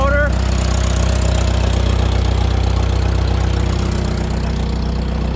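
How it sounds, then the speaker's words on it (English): A Farmall Super M diesel tractor engine turns over with difficulty on a cold start and catches, then settles into a loud, rough, knocking idle that chugs steadily close by. "that was honestly the hardest start that I've ever had with this tractor"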